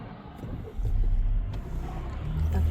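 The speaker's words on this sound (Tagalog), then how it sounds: "Hintayin natin at may mga sasakyan guys." Cars passing along a foggy road, a steady low engine rumble swelling as vehicles approach and go by close to the microphone, with faint voices in the background.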